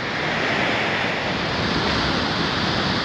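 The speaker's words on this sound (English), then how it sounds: "That's all there are today is little waves." Small ocean waves break at Sunset Bay, Oregon, as a steady unbroken wash of surf roar, loud and continuous, with wind across the microphone.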